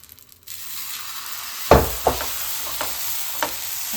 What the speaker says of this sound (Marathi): आता मी दुसरा डोसा घालत आहे